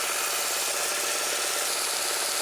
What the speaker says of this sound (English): let's take these over to the belt sander and get them cleaned up a little bit